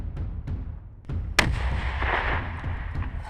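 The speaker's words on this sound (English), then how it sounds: "Slowing down the footage shows the detonation more clearly." A World War I style grenade detonates in slowed-down footage: several dull thumps lead up to a sharp, loud blast followed by a long rumbling, crackling aftermath.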